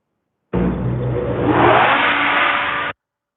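Inside a combine harvester, a loud fan whooshes on abruptly, roaring steadily for a couple of seconds before cutting off.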